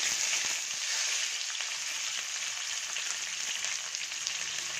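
Onions frying in a pan give a continuous, fairly quiet bright hiss that holds even throughout with no voices.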